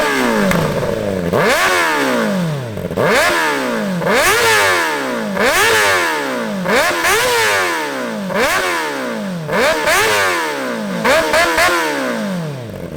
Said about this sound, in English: It is warm, so we're just gonna rev it